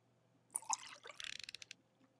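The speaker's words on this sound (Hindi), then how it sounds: "सबसे पहले मुझे डालना है ये पानी" Water is poured in the horror video game Home Sweet Home, giving a few splashy drips that turn into a quick run of evenly spaced droplet plinks, fairly quiet and alone.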